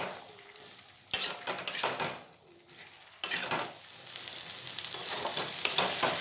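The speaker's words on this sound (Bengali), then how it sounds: "কুমড়োটা খুব ভালোভাবে ভাজা হয়ে গেছে" Pumpkin fries with turmeric in a pan, giving bursts of loud sizzling and scraping stirs between quieter stretches of low frying hiss.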